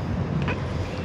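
Wind buffets a microphone outdoors beside a Honda Forza 300 scooter, giving a brief, close, broadband rumble and roar with no speech.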